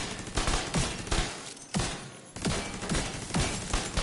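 Rapid turret gunfire in Division 2 rattles in dense, repeated bursts, with a brief pause between volleys as rounds hammer an enemy, loud and close with no talking.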